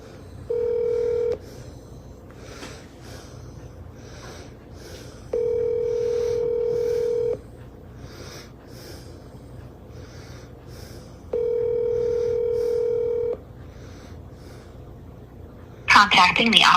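Phone dialing a number: three evenly spaced long steady tones with quiet room noise and faint movement between, ending in a brief burst of noise as the call connects.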